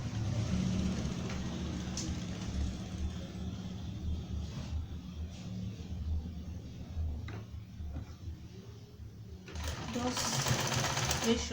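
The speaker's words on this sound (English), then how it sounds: "So then let's continue sewing until we get to the end." A sewing machine stitching a two-piece shirt collar runs in a steady, continuous mechanical whir, with a voice talking over it.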